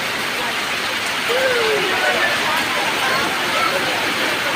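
Rain falls steadily on a street where a rickshaw puller and children are bathing in it, a broad, even hiss with a faint passing sound in the middle and no clear talk.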